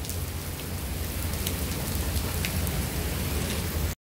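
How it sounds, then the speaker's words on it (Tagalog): Heavy rain pours down at Salisbury Garden, Tsim Sha Tsui, in a dense, steady hiss with no pauses, then cuts off abruptly at the end. "Hala, lakas ng ulan."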